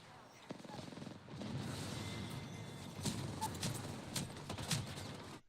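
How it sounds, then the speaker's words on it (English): Rapid gunfire from the game Apex Legends, with several sharp cracks and bursts standing out over a dense, busy game mix, with talk running underneath. "Getting shot at."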